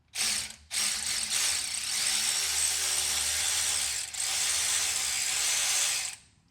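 A cordless ratchet spins out the differential cover bolts on a 2022 Ram 3500 High Output diesel truck, giving a loud, close, continuous mechanical whir that breaks off briefly near the start and dips once midway before stopping.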